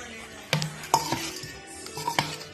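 A spoon clanks and scrapes against a metal pot while stirring the ingredients for liboke ya ngulu, with a few sharp, separate knocks and clinks spread out over a couple of seconds.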